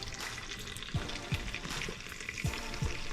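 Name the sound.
butter melting and sizzling in a pan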